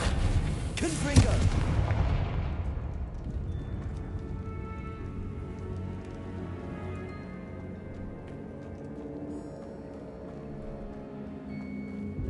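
An explosion spell bursts with a loud blast in a dark tomb in the video game Hogwarts Legacy, then a long rumbling decay with game ambience underneath.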